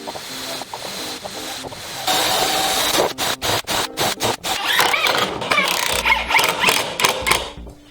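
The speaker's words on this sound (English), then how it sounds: "I better start putting the screws in so I can balance it" Screws are driven into a homemade dust collector impeller, with a series of short, rhythmic bursts of a power driver whirring in quick succession, preceded by quieter handling and followed by louder grinding.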